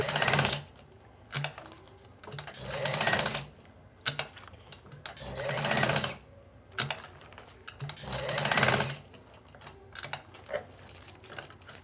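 A sewing machine stitches an elastic pant waistband in repeated bursts of rapid mechanical whirring, each run lasting a second or two with quiet pauses between, close and fairly loud.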